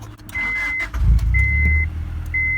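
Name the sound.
Honda Prelude engine starting up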